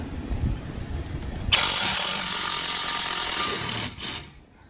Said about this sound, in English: So I just take my impact, since I've got pressure on the rear of the bottom part of the shock, put my E18 socket on,